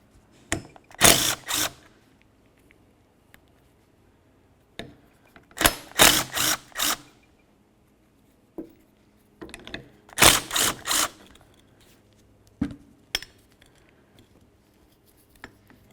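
A ratchet backs out the three 10mm bolts holding the wiper motor to the wiper transmission on a 2003-2007 Honda Accord, making several close, quick clicking bursts separated by pauses, with no talking.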